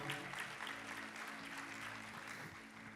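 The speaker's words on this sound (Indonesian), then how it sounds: "Berikan tepuk tangan buat Samuel." A church congregation applauds after a sermon, an even, moderately quiet spread of many hands clapping that holds steady for a few seconds.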